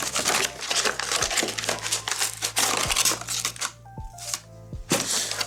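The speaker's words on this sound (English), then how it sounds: "We pull out this cardboard." Close, continuous crinkling and rustling of cardboard being pulled out of a camera cleaning kit's packaging, with a few soft knocks and scrapes.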